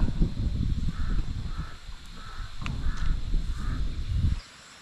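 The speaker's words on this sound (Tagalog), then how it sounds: "May ibon na uwak oh." Repeated crow caws, about five harsh calls spaced evenly, over a low rumbling background of wind or engine noise that cuts off near the end, on a farm.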